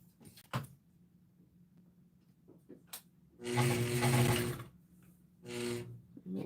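A sewing machine stitching a 3/4 inch folded seam on bridal fabric runs in two short bursts, a steady humming whir of about a second and then a briefer one, after faint handling knocks and clicks.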